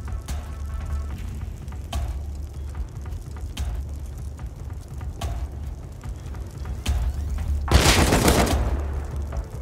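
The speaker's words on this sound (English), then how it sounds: "I'm getting shot. What the fuck? By who? By AK." Gunfire from an AK rifle in the game Rust cracks out as sharp, spaced single shots over a low rumbling background, with a louder burst of noise near the end.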